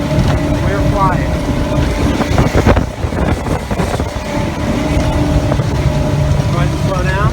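A 2006 Four Winns 290 Horizon motorboat runs at speed with its throttle well open, a loud steady engine roar mixed with wind and water rush, and a voice speaking briefly over it.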